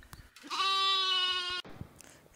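A single sheep or lamb bleats once, a clear, sustained, moderately loud call lasting about a second, with faint background noise before and after.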